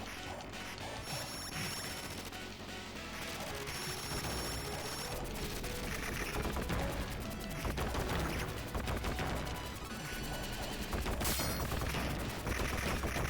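Explosions and gunfire-like blasts crash continuously through the Teenage Mutant Ninja Turtles video game on Nintendo Switch, a dense, loud barrage of bursts layered over game music with no voices.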